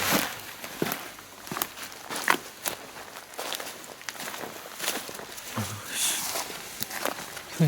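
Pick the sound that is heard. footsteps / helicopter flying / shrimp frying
footsteps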